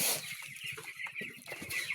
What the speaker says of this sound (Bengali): এই যে যে ব্রয়লার মুরগি দেখছেন এইগুলো আমার একশো ষাট পিস আছে